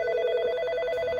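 A desk phone dials and rings an office extension, giving a steady pulsing electronic ring tone, clear and close, with a brief click near the end and no talk.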